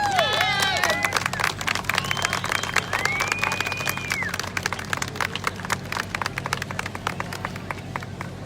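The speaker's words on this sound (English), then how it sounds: "our 2020 homecoming court. Let's give a round of applause" Crowd at a school homecoming event claps and cheers for the homecoming court, with whistles and shouts early on, then a long stretch of steady, dense clapping.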